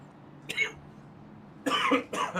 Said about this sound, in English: I'm coughing up a lung here.